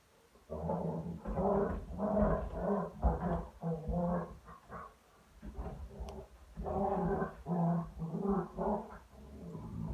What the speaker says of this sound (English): My dogs are having a great time. They say hi from the living room. They play like this all day, every day.